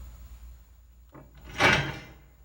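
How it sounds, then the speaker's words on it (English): A wooden door sound effect, pitched down, makes a low creaking slide that swells into one heavy, muffled thud of the door settling, close and isolated against a quiet background. "Another wooden door pitched down."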